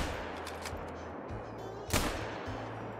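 Gunfire while hunting bobwhite quail in the game Call of the Wild: a single sharp shot cracks out near the two-second mark over steady low background rumble, with faint lighter pops earlier.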